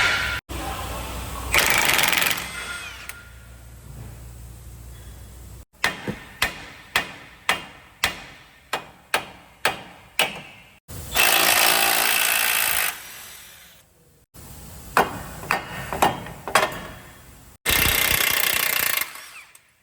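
Power tool working on the suspension of a 1999–2007 Chevrolet Silverado during a lowering spindle install, loud bursts of rattling impacts alternating with a rapid series of sharp hammering hits, close and mostly without talk.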